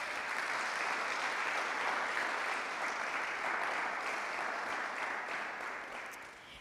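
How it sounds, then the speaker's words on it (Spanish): A church congregation claps together in sustained applause. It is a dense, even wash of hand claps that holds steady and slowly fades toward the end, with no speech over it. "dele una alabanza de palmas al que vive"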